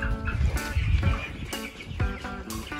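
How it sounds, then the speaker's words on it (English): Backyard chickens in a brooder with fresh shaving bedding cluck and chirp in short, close calls on a windy day, several birds overlapping in a busy, uneven chorus. "Yep, and they're happy, healthy chickens."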